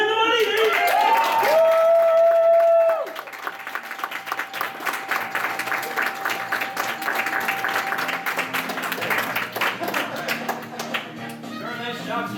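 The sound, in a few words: audience applause at anime convention game show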